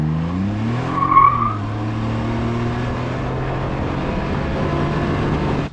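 Engine of a 2021 Can-Am Ryker 900 ACE three-wheeler on a test drive, a steady droning hum with a brief rise in pitch as it accelerates, then cruising on at an even tone.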